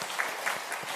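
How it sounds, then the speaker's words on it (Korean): Congregation applauding in a Korean church after a worship choir's praise song, a brief, steady patter of many hands clapping together. "우리 하나님께 영광의 박수 한번 올리겠습니다"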